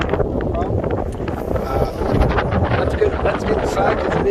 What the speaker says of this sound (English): Let's get inside because it is freaking windy out here.